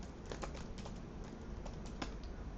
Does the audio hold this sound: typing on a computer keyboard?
yes